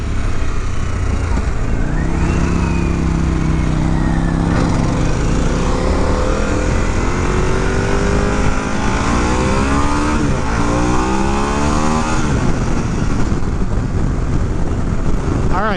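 A 2022 Harley-Davidson Pan America Special motorcycle running hot laps on a track, its engine droning loudly and continuously with rising and falling revs through gear changes, constant wind buffeting throughout.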